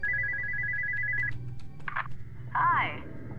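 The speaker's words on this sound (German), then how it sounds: "Telefon?" A telephone rings in the Spooky's Jump Scare Mansion HD Renovation video game, a steady electronic trill that stops after about a second, followed by brief game sounds and a voice.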